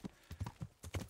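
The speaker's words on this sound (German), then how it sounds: "So, wir reiten noch was Querfeld ein." Horse hooves clop in a quick, regular rhythm while riding cross-country in the video game Kingdom Come, heard fairly quietly with no other sound.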